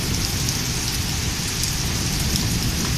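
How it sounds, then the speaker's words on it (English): Heavy rain in Rawalpindi pours steadily onto surfaces in a dense, loud, unbroken hiss, with a low rumble running underneath. "rain."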